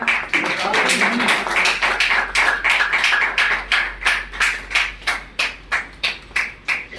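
An audience applauds a poet on his birthday, with dense clapping at first that thins into a regular rhythm of strong individual claps, close and loud.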